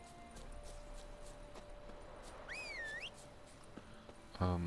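Geralt gives a short rising and falling whistle in The Witcher 3, a clear two-note call over quiet ambient game sound, followed by a horse's hooves trotting up at the end.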